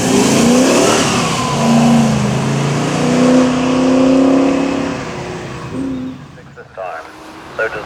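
TVR sports car climbing the Loton Park hill climb course during a speed championship round, its engine note rising as it accelerates away and fading toward the end, with commentary running over it.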